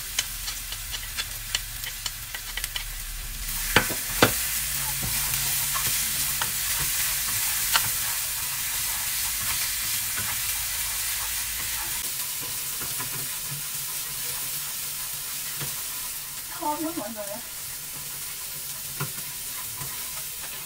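Garlic and shallots frying in oil in a pan make a steady, close sizzle with stirring scrapes and occasional clicks, lasting throughout without speech.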